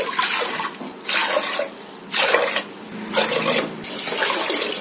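Water poured into a large cooking pot for rice, cup by cup, in several separate close splashing pours with brief pauses between them.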